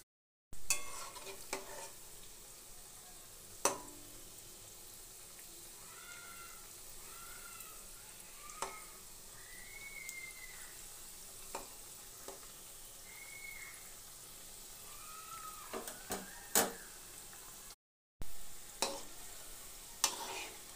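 Crisp carrot snack frying in oil in a pan over low to medium heat, a quiet steady sizzle with scattered pops, stirring clicks and a few faint chirps in the background.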